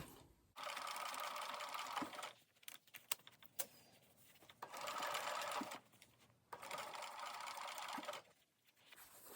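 A sewing machine stitches pockets onto a leather vest in three long steady bursts, separated by pauses filled with faint handling clicks and rustles of the material.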